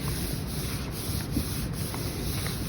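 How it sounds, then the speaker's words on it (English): Paper is rubbed by hand over an inked printmaking block in an elementary classroom, making a steady, soft scratchy rubbing that continues evenly throughout with no talking. "to rub the paper."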